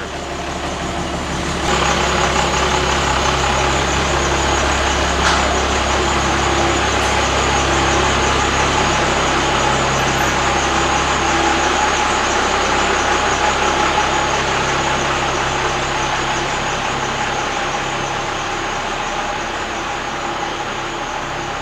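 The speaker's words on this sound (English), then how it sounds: "That dual stack sound, that's what I was after." A Cummins diesel flatbed truck with dual exhaust stacks idles steadily and loud nearby, a continuous rumbling drone with no talk.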